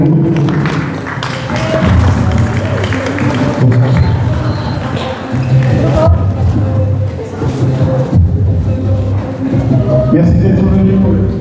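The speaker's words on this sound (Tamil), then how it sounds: "ஒரு கரகோஷத்தோடு அவர்களை வரவேற்கும்." Audience applause welcoming guests at a Tamil Pongal celebration held by residents and traders, a steady, dense wash of clapping with crowd murmur and thumps running throughout at close range.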